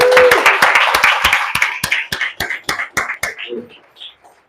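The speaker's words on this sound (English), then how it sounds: "let's give Dean a round of applause" A small audience at a 1 Million Cups Chicago event claps in a brief burst of applause, sharp hand claps that thin out and slow to a few scattered claps before fading.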